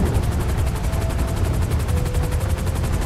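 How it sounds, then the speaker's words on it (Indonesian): A military air force helicopter in GTA V, a dense steady rotor roar with thumping low-end pulses filling the whole stretch, loud and close, without speech. "Kenapa kita pakai helikopter TNI AU?"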